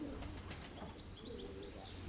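Soft pigeon cooing and a few chirps drift over a steady outdoor background hum, fairly faint and distant, with no voices.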